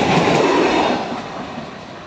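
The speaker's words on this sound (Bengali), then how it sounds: "গেট পড়ে গেল এবং 10:10 যে ডাউন ট্রেন সেটি যাবে।" A train rolls past a level crossing with a loud, close rumble and rattle of wagons that gradually fades over two seconds.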